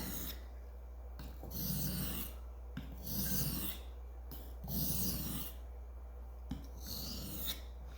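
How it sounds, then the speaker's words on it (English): A knife blade is stroked back and forth across an oil stone, with four long rasping passes in a steady rhythm, close and fairly quiet, over a constant low hum. "We'll just focus on the sharpening right now."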